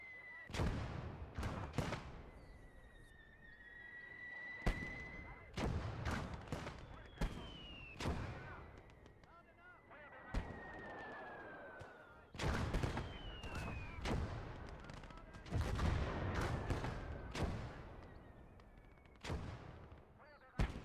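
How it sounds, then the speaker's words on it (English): Artillery and mortar fire in a video game: a sequence of sharp, loud blasts and booms arrives in irregular clusters, some with descending whistling shell sounds before impact. "it looks like your artillery's falling on friendly"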